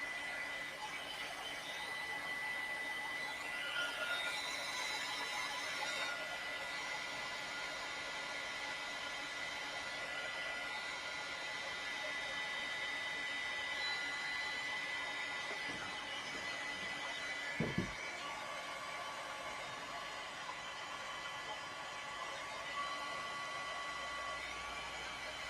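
A hair dryer blows steadily and loudly for the whole stretch, drying paint on sketchbook pages, with a broad even whoosh and one brief knock partway through.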